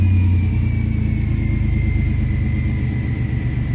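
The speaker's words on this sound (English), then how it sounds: "You hear those vacuum lines leaking." A 1992 Chevrolet S-10 truck engine runs at a steady idle with leaking vacuum lines, a constant low rumble with a thin high hiss and whine above it, close and loud.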